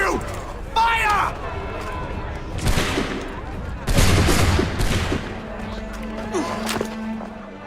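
Musket volley fire in Assassin's Creed 3, several loud crackling bursts of massed shots spaced a second or so apart, over background crowd noise and battle clamor, with voices speaking.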